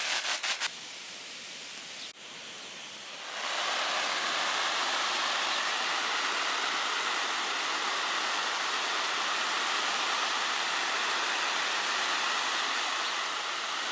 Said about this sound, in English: So you'll be unlucky enough to get caught out in a sustained heavy shower like this